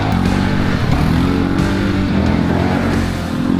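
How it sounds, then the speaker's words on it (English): A Segway Powersports Snarler AT6 ATV with a 570cc single-cylinder engine runs with a loud, throbbing note, close by and steady, then dips slightly near the end. "Snarler has a 570cc single-cylinder engine with 44 horsepower and 48 Nm of torque."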